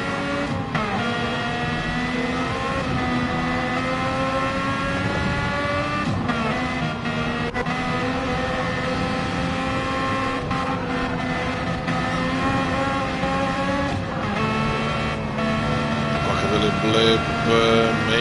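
Historic Formula 1 race cars in Gran Turismo 7 scream at high revs without a break, with engine pitch rising and falling through gear changes and braking, under constant excited race commentary.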